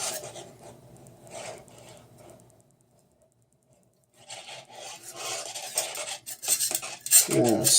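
Scrubbing inside a trombone bell section, a rough rasping rub in bursts, quiet at first, pausing briefly, then louder and busier with scraping strokes close by.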